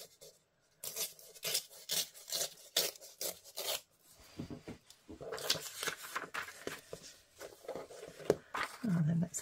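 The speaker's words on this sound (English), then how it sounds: "So I'm just going to trim down it with my ruler." Paper is trimmed along a ruler for a craft project, a close series of scratchy rubbing and cutting strokes with short pauses between them, loud and uneven, with no talk.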